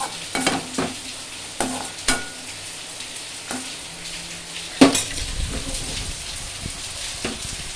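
A utensil stirs and scrapes in a pan over a steady frying sizzle, with several sharp clanks at irregular intervals, close up.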